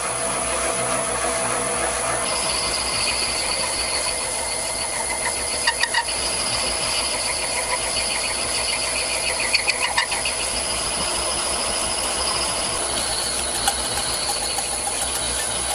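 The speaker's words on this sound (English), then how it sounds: "I will have to check the heat on the motor at a slow RPM." Electric motor of a modified boring bar running at slow RPM, a steady whining hum with a high sustained tone and occasional faint clicks and rattles, continuous and close throughout.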